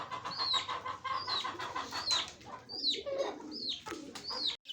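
Pigeons coo softly in repeated rising-falling calls, several birds close by, with a faint background murmur.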